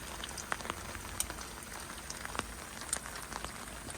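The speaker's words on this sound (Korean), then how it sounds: "이번 여행의 마지막으로 친 타프 위에 빗소리가 떨어집니다." Rain falls on a camping tarp pitched at a campsite near Salzburg, Austria, a soft, steady patter broken by scattered louder drips close by.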